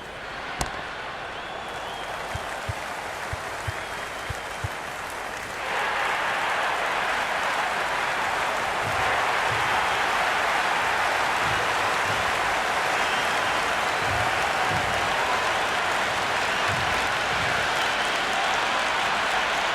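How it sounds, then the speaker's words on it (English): Stadium crowd noise from the cricket video game Cricket 26 during an India versus USA T20 World Cup match: a low crowd murmur that swells into a loud, sustained roar, with faint thuds underneath. "There's an almost tangible fervour throughout the crowd at the moment."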